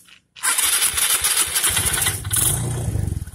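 A Suzuki Sky Wave scooter engine in poor, unserviced condition starts after a brief silence and revs loudly and steadily up close, then settles into a throbbing, pulsing idle.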